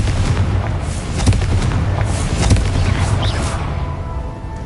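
A Confringo blasting spell explodes in the Hogwarts Legacy video game, heavy booming blasts with rumbling low-end and crackling debris, loud and dense throughout, with a couple of stronger bursts partway through and a layer of game ambience underneath.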